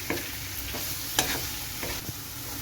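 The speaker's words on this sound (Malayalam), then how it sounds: "ഇനി നമ്മുടെ ഈ സവോളയ്ക്ക് ഒന്ന് വഴന്ന് വരുന്നിടം വരെ നമുക്കൊന്ന് ഇളക്കി കൊടുക്കണം" Onions sautéing in a pan for a Kerala mutton fry, with a steady close sizzle and a few scraping stirs of a spoon across the pan, no talking.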